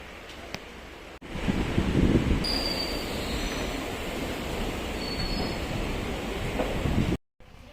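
Steady rumble and rattle inside a moving Rajarani passenger train at night, near Shoranur, with continuous wheel and carriage noise and faint high squeals running throughout before cutting off abruptly at the end.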